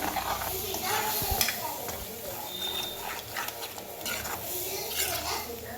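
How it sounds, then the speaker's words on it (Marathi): Thinned besan batter for pithla goes into a hot pan and gets stirred, giving a steady sizzle with scraping and clicking of a spoon, close and continuous, with someone speaking lightly under it. "आता आपण हे बेसन पातळ करून घेतलेलं आहे ना, ते असं ह्याच्यामध्ये घालून घेऊया"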